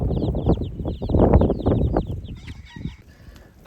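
Mother hens and their recently hatched chicks cluck busily while eating whole-food feed, with low hen clucks under a run of high, rapid chick peeps. The sound is close and lively, then thins toward the end.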